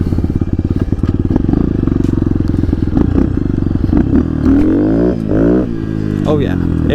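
A budget dirt bike engine idles with a fast, loud rattling putter, then revs up and down in rising and falling sweeps close by, with someone talking over it.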